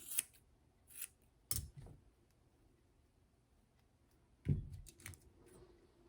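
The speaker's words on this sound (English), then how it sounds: "for the hair on the side, I comb it out like this, hold it out like this, and trim" Scissors snip a Havanese dog's side hair in a few separate bursts of close, crisp cuts with quiet pauses between them.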